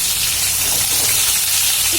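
Tomatoes for avarakkai sambar sizzle steadily in a hot pan, an even, close frying hiss that continues without break throughout.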